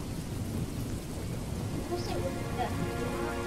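Heavy rain pours in a Roblox Jailbreak thunderstorm, a dense, steady hiss with low rumbles of thunder and lightning strikes, plus faint tonal game sounds near the end.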